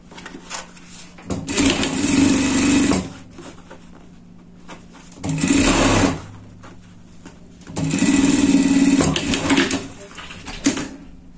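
A sewing machine stitches a straight seam on a pet bed in three loud bursts of steady, fast motor whirring, separated by short pauses, with no talk heard.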